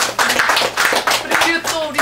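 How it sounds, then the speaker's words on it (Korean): An audience claps loudly for honorees standing up at an anniversary and co-representative appointment ceremony, dense bursts of hand claps in several waves, with a voice speaking over part of it. "세 분 네 분 일어나셔서 박수 받아주세요."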